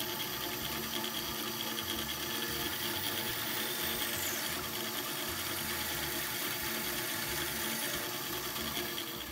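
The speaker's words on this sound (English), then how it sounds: "Now we can go ahead and trim off the wedges." A power tool trims protruding wooden wedges flush on a custom walnut, maple and oak mallet, giving a steady, loud, continuous whine and buzz that runs unbroken throughout.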